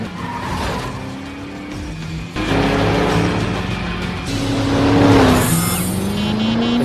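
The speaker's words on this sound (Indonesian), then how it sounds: "Kembali Jensen dan Pachenko beradu mobil." Race cars clashing during a deadly race in the film Death Race 2, loud roaring engines with rising revs, tire squeals and abrupt impact shifts, continuous and close.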